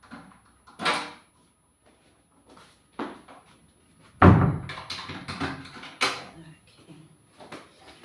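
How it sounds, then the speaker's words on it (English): A door is shut indoors with a solid thump partway through, surrounded by softer bumps and knocks and a woman's intermittent speech. "let me just shut this door"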